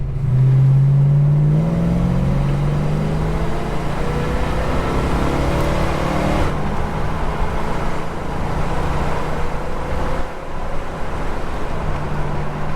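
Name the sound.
Holden HK car engine revving to 4000 RPM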